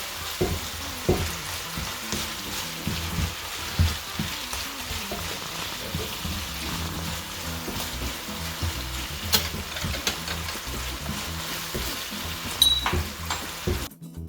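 Shrimp and garlic for spicy gambas al ajillo sizzle in hot oil while being mixed, a continuous close crackle with scattered pops and scrapes of the utensil.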